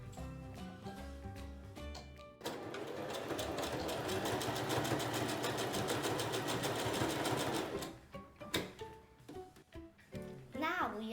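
Sewing machine stitching a fabric tote bag, a fast steady mechanical run in the middle, with quieter handling noises and brief talk before and after.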